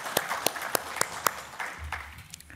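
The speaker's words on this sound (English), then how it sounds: "Let's just give him another round of applause." A few scattered claps from an audience at a chamber closing event, sparse and fairly distinct, thinning out after about a second and a half into a faint low room rumble.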